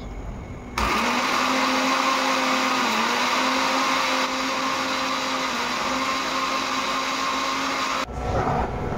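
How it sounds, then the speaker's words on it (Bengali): A mixer grinder blends cumin and green chilies into a paste, a loud steady whirring drone that starts abruptly, runs with a slight dip midway, then cuts off near the end. "আর এইদিকে দেখো, জিরে কাঁচা লঙ্কা আমি পেস্ট করে নিচ্ছি।"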